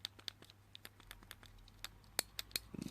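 The dice buttons on a fake fidget cube click in a quick, irregular series of small, sharp taps, some brighter than others. The clicks are close and fairly quiet, with no talking.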